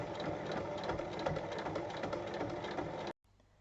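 A sewing machine stitches along a marked line on a quilted fabric pouch, a steady fast mechanical whir close by for about three seconds before it stops abruptly, leaving a faint hum.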